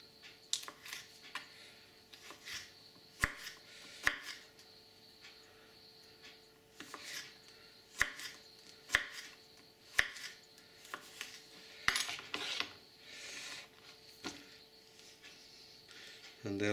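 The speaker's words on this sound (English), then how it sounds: "Then you can just slice the beans into small, thin diagonal slices." Knife slicing green beans into thin diagonal slices on a board, a run of crisp irregular chops, some sharp and close, with a faint voice talking at moments.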